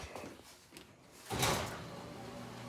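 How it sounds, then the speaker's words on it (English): A garage door swings or rolls open with a broad rising whoosh and rattle midway, fairly faint, after quiet room tone, with no talking. "let's pop the garage door open"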